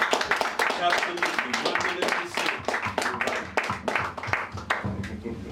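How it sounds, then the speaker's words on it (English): An audience claps for a speaker at an evening talk, scattered, fairly close hand claps with uneven rhythm mixed with voices talking over them. "So let's give him another hand."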